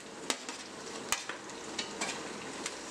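Onions and tomatoes fry in a pan and get stirred, producing a steady close sizzle broken by the sharp clacks and scrapes of a spoon against the pan.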